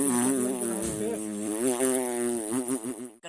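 A performer imitates a black carpenter bee with a steady, droning vocal buzz held for about three seconds, close and loud, the pitch wobbling slightly.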